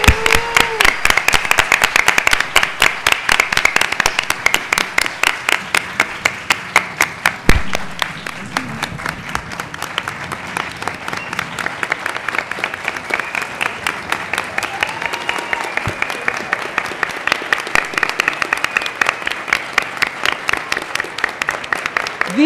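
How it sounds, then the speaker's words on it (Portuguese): An audience at a film-industry tribute ceremony gives a long round of applause, dense rhythmic hand claps that hold steady for over twenty seconds, loud and close, with a few brief cheers mixed in. "Uma salva de palmas."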